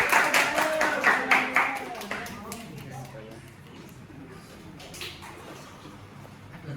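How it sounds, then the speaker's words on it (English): A class of students in an IELTS lesson claps hands together in a brisk burst of rhythmic claps. The clapping fades after a couple of seconds as voices talk over the room. "Everybody, clap your hands."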